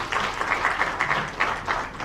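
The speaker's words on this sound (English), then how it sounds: "Another round of applause, please." An audience claps at an International Youth Day event in Sierra Leone, a steady wash of many hands heard at moderate volume with no break.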